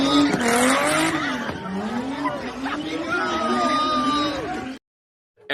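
A car doing a burnout in a parking lot, loud wailing tire squeal rising and falling in repeated sweeps over engine roar, then cutting off abruptly near the end.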